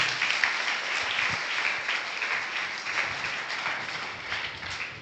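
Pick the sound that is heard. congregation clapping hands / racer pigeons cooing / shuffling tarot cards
congregation clapping hands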